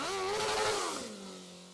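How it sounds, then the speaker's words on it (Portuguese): A stunt motorcycle spinning through a zerinho maneuver revs hard and close, the engine pitch climbing and then dropping away into a lower idle. "Ele faz diversas manobras como o famoso zerinho."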